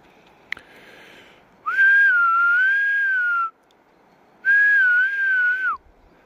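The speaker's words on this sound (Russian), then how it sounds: "Еще бы уметь свистеть громко." A person whistles two sustained tones, each lasting over a second with a slight wavering pitch, separated by a pause and sounding clear and fairly loud against quiet outdoor background noise.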